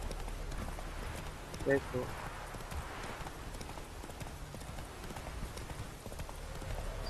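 Horse hooves clip-clopping in rhythmic galloping footfalls during gameplay of The Witcher III, heard under someone speaking and a steady low game background.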